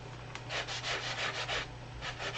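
Sanding a stamped crafting surface by hand, a series of short scratchy rubbing strokes in a quick uneven rhythm, close and fairly quiet, with no talking.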